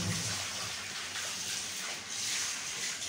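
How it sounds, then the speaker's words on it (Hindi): A washing machine runs through a wash of clothes, producing a steady sloshing, gushing water sound at moderate distance, with no speech. "ये देखें अभी लगी हुई है मशीन और ये कपड़े धुल रहे हैं।"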